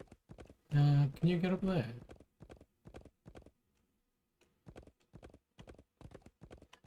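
Horse hooves clip-clopping in the Wild West Dynasty video game, a steady rhythm of sharp, evenly spaced hoof beats that continues after someone speaks briefly over the start.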